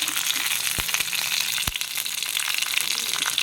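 Eggplant sautéing in a pan, a steady soft sizzle and crackle with a few sharp clicks of stirring near the start, no talk.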